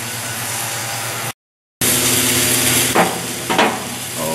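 Steak, pork loin and sausage sizzle loudly on a hot grill in a dense, steady crackle, cut by a brief dropout, then a couple of knocks and scrapes as the meat is turned.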